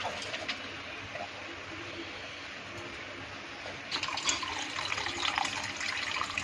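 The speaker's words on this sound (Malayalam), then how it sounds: "പുളിനീര് ഇതുപോലെ ഒഴിച്ച് ഞാൻ ഫ്രിഡ്ജിൽ വെച്ചേക്കും" Tamarind juice is poured into a glass jar in a steady, soft liquid trickle that grows slightly louder and splashier toward the end. No one speaks.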